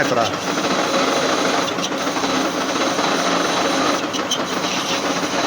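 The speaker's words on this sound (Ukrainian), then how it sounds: "вже проточка, друга фаза проточки. знімаю 2 мм." A 1D601 lathe turning a faceplate and taking a 2 mm cut, giving a continuous loud close whirring and rasping hum with a steady mechanical texture and a few brief clicks.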